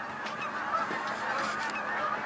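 A chorus of duck calls and honks overlapping continuously at moderate distance near a bridge at Fortwhyte, Winnipeg, fairly quiet against a steady outdoor background.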